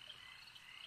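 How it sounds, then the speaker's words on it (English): Frogs croaking in a dramatized nighttime outdoor scene, a brief steady chorus of faint, rhythmic croaks and trills with no voices over it. "Frogs."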